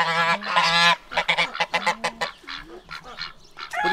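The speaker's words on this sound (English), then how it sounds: "So we've still got some of the birds that just like to hang out inside" Geese honking inside a farm barn, a close, loud run of repeated nasal honks in quick uneven bursts, with several birds calling over one another.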